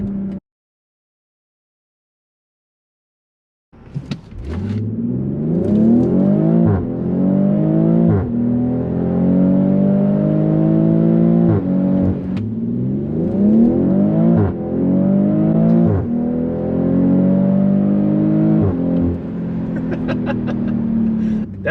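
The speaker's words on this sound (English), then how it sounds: "You can hear the little burbles, cracks, whatever you want to call them, when you let off the exhaust." A BMW X3 M40i driving with its exhaust, heard from inside the cabin, rising and falling through repeated gear changes, with short burbles and cracks as the throttle lifts. It is loud and steady once it starts after a brief silence.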